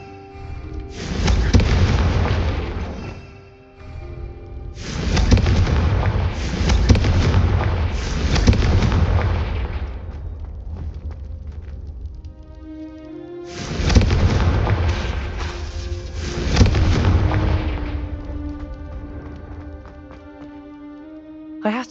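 Confringo fire spell blasts in Hogwarts Legacy, several loud booming bursts in separate clusters with crackling tails and a ringing musical score underneath.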